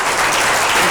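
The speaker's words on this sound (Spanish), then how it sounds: "Vamos a darles un aplauso por aquí al Pérgolas." Audience applause at a live radio broadcast event for mexicoradio.net, a dense, steady wash of clapping filling a brief moment at close range.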